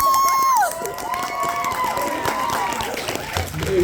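Fan convention panel crowd in Toronto cheering and clapping loudly for a voice actor's entrance, a dense wash of applause and shouts with whistles and a voice on a microphone over it.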